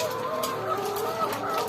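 Laying hens cluck in a coop at feeding time, a close, busy overlap of short clucks and murmurs from several birds throughout.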